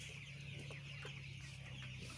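Chickens clucking in a crowded poultry farm shed, a dense, continuous chorus of clucks over a steady background hum, no talking.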